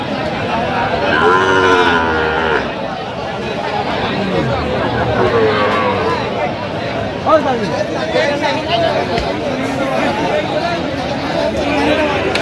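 Sahiwal bull calves about five to six months old moo repeatedly at a busy cattle market in Kurigram, their drawn-out calls rising over constant crowd chatter and bargaining voices.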